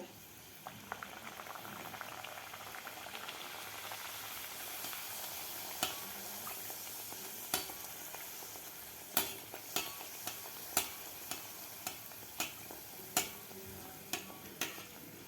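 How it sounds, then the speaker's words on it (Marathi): Puris made with mango juice deep-frying in hot oil, a soft continuous bubbling fry with sharp clicks and taps that grow more regular toward the end, with no voices. "आता आपण काढून घेऊया सुद्धा आपण पुरी तळून घेऊया"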